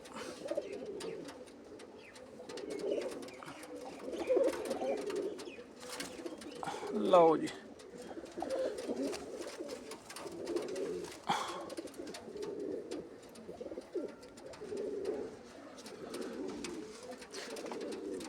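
Paired Tanki pigeons, a Shah Khan male and a white-and-black female kept for sale, coo steadily in low rolling phrases throughout, while someone speaks briefly over them.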